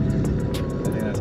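A car engine revving with its exhaust cutout closed, a steady muffled drone under repeated sharp clicks or taps.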